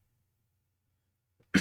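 A single short, harsh cough comes from someone with exercise-induced asthma, preceded by a faint throat catch in near silence.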